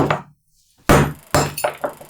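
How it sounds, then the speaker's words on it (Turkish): A porcelain mug being struck with a hammer and nail to drill a hole cracks apart, with a sharp breaking crash followed by several clinking, tinkling impacts of pieces. "E kırıldı kupa."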